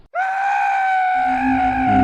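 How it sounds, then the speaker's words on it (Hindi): A man screams in fear, a single long, loud, sustained cry that starts abruptly and holds steady, with a low rumble joining in halfway through. "नील डर के मारे चिल्लाने लगा।"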